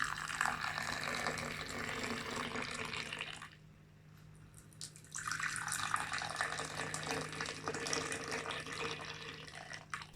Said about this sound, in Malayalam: ഇനി ഇത് നമുക്ക് ഗ്ലാസ്സിലേക്ക് ഒഴിക്കാം.